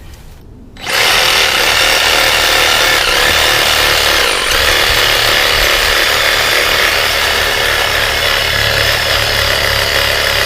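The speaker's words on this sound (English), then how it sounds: "Looks like I just need to saw a little bit more on this side." A Diablo pruning saw blade cuts through bush roots in a yard, starting abruptly and then holding a loud, harsh, continuous grinding buzz up close.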